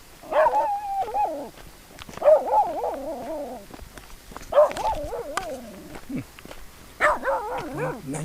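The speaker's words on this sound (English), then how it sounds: "No idea what he's barking at." A dog named Tuco barks and whines in several bursts, close by, with short pauses between.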